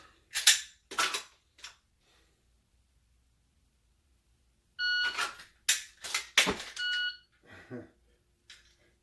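Dry-fire trigger presses on a Glock 34 Gen 5 fitted with an ETS magazine, heard as sharp, close clicks and snaps in quick bursts separated by a quiet pause.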